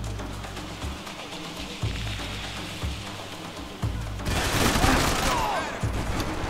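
Assault rifle fire in Max Payne 3, crackling in rapid bursts that grow into a louder, denser volley partway through over low rhythmic background sound; someone speaks intermittently in between.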